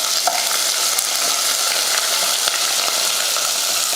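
Two large onions and curry leaves frying in hot oil with popped mustard seeds for an idli kulambu, stirred in the pan; a close, steady, dense sizzle runs throughout with no talking.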